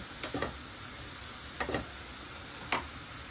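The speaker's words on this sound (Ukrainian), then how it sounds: "поки засмажечка смажиться" Vegetables for a borscht frying base sizzle and fry steadily in a pan with a constant soft hiss, broken by a few short scraping stirs.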